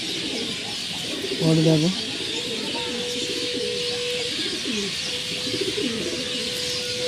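Pet gola-breed pigeons coo softly in a home loft, with low rolling calls repeated over a hissy background and a brief spoken voice near the start.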